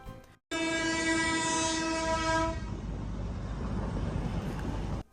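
A hill train's horn blares loud and sustained for a couple of seconds at Tindharia on the Darjeeling road, then the heavy rumbling train rolls past close by.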